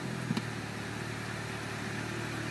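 A Mini R56 idling just after a cold start, a steady close mid-pitched engine hum with low rumble and no talking, holding an even level after a brief bump near the start.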